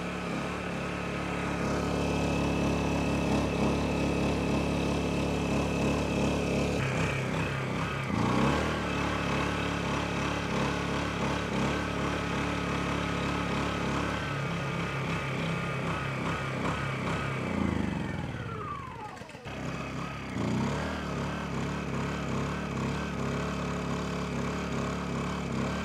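A Honda EU1000i portable inverter generator drones steadily and loudly nearby, with a brief dip and shift in engine pitch near the end before it settles back to its constant hum.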